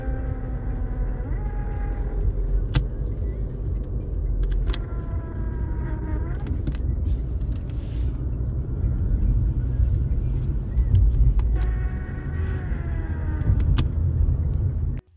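A Škoda Octavia II 1Z5 with a 1.6 TDI and DSG gearbox makes a strange noise when shifted into Sport mode. Repeated rising mechanical whines sound over a steady low engine rumble, coming in separate bursts.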